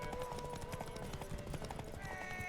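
A galloping horse in The Witcher 3 drums out fast, steady hoofbeats at low volume under a constant layer of game ambience and music.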